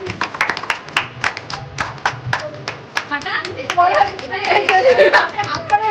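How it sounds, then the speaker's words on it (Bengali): Wedding guests clapping as a cake is cut, quick close handclaps from several people mixed with chatter and children's voices, growing denser toward the end. "সবাই হাত তালিয়ে একটা জোরে কংগ্রাচুলেশন"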